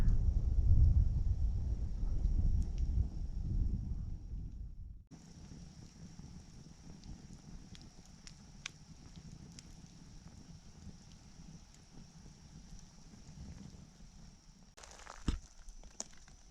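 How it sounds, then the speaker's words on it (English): Wind gusts across a backcountry kayak campsite, a strong rumbling buffet at first that drops off sharply, then a steady light breeze with scattered small knocks and rustles nearby. "There's that wind again. Dies right off, then it picks up, then it dies off."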